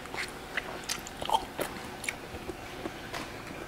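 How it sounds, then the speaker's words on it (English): Self-heating Haidilao hotpot noodles being eaten close up, with soft repeated bites and slurpy chewing ticks scattered across a few seconds, fairly quiet with no talk. "I'm gonna go ahead and try some of the noodles now."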